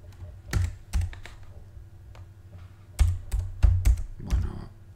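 Someone types on a faulty computer keyboard in irregular bursts of close key clacks separated by short pauses, with nobody talking.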